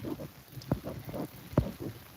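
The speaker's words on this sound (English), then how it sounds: "Are you able to hear the rain on my umbrella?" Rain pouring onto an umbrella outdoors on a country homestead farm, a steady soft patter with a couple of heavier low thumps from drops or handling, fairly close and with no talking.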